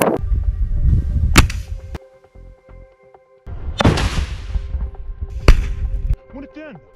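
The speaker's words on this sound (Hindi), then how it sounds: "आईडीएफ के एक टैंक पर रॉकेट लॉन्चर से गोला फायर करता है, जिसमें जोरदार ब्लास्ट होता है।" A rocket launcher is fired at an IDF tank in combat, giving several loud, sharp blasts and heavy booming bursts close by over a rumbling background.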